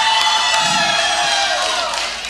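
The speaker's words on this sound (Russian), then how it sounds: "Аплодисменты факн-клубу Валеры!" Audience cheers and whoops at a brass band concert, a loud sustained crowd roar with shouting that carries through the clip and eases slightly at the end.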